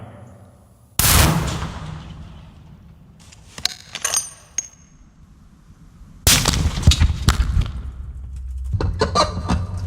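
A .50 caliber sniper rifle fires at a car from about 15 yards out, giving two loud sharp blasts with long rumbling tails a few seconds apart and some rattling in between.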